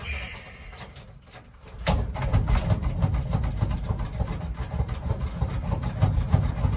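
A 1968 Dodge engine catches and runs after start, a steady low rumble that jumps up in loudness after a quieter moment and holds fairly close and even, with no talk over it.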